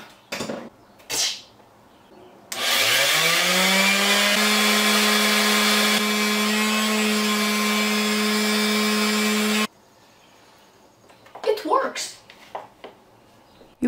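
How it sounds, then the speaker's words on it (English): Electric power sanding tool used to shape a homemade Power Rangers Dino Charge energem: a loud, steady motor whine starts abruptly, holds for about seven seconds with a gritty buzzing edge, then stops, with speech before and after. "the other option I have for you today is a sanding tool."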